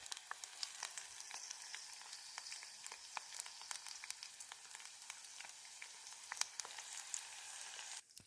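Homegrown tomatoes sizzle and fry in a pan at a forest campsite, a steady crackling hiss with scattered sharp pops, close and fairly quiet, no voices.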